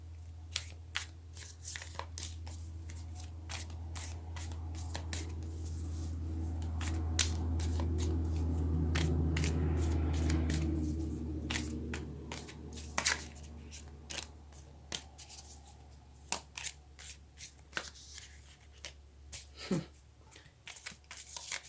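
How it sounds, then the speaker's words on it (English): Tarot cards are shuffled by hand over and over, crisp riffling clicks and flutters up close, with a low hum swelling in the background partway through. "when the cards don't want to shuffle well, that means something's going on"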